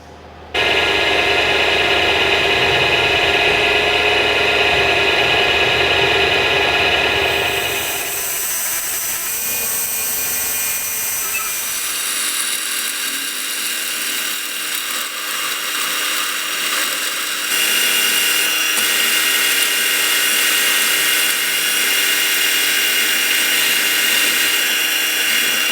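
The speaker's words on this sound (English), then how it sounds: "it's going to be a lot of drilling, a lot of messing around" A lathe drill grinds and whirs loudly as it bores a through hole in a metal block, the pitch and tone shifting partway through, steady and close with no talking.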